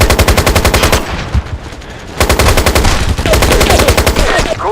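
Rapid automatic gunfire from the PlayStation 3 shooter MAG, loud close bursts of machine-gun fire separated by a short pause, with dense repeated shots throughout.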